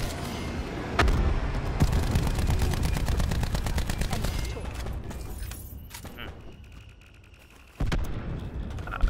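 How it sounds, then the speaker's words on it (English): Thresher close air support strike in Call of Duty Black Ops 4, a loud sustained barrage of gunfire and explosive bursts that rolls on for several seconds, eases off, then returns with a fresh heavy impact near the end. "give me Thresher close air support"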